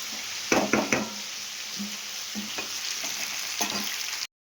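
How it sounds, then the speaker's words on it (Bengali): Red amaranth greens fry with salt, turmeric and chili in a pan, a constant close sizzle with several knocks and stirs of a spatula, ending abruptly in silence. "তাই শাকটা একটু ভাজতে সময় লাগে"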